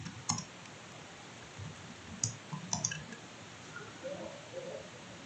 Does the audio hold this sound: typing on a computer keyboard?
yes